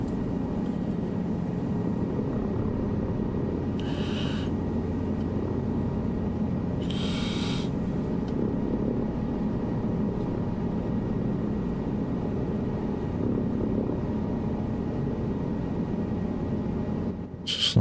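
Helicopter flight in Microsoft Flight Simulator 2024 career mode, a steady low rotor and engine drone running throughout, broken by two brief breathy bursts and a sharp click near the end.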